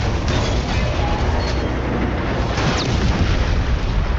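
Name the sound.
explosion in a video game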